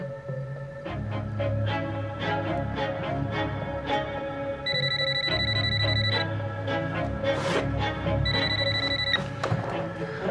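A telephone rings indoors in repeated electronic bursts with quiet pauses between them, set against a low background hum.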